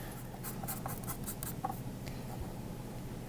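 Chalk scraping on paper while tracing around a star-shaped template, a steady, close scratchy rubbing in short repeated strokes with no voices.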